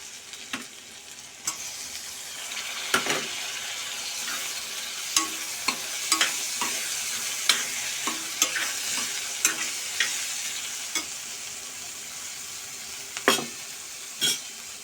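Tomatoes sautéing in a pan over lowered gas flame for a spicy Kolhapuri chana dal dish, with potatoes already in: a steady sizzle broken by repeated clinks and scrapes of stirring, no talk.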